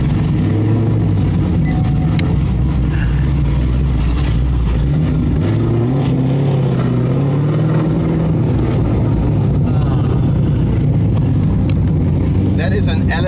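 Corvette with an all-aluminium 376-cubic-inch LS3 V8 and dry-sump oiling, revving loudly nearby with deep rumbling swells, while people talk over it throughout.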